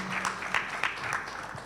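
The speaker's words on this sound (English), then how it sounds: "I think the moderator also deserves a round of applause" Conference audience clapping for a session moderator at the end of a MOBEXX 2023 panel, a fairly faint, brief patter of hands with a few louder claps near the start.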